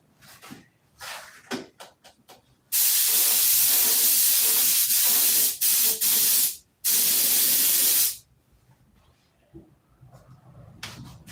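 A paint spray gun lays down a flow coat in a loud, close, steady hiss lasting several seconds, broken by brief pauses, with quieter shuffling before and after.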